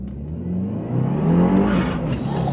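A 2022 Subaru WRX on the VA chassis with a twin-scroll turbo, tuned to about 400 horsepower, pulls hard under acceleration, a loud steady rising engine drone heard close from inside the car with no talk.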